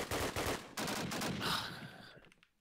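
Machine gun fire from a World War II team shooter match on the Carentan map, sustained rapid bursts rattling loud and close for about two seconds before cutting off, with no talking over it.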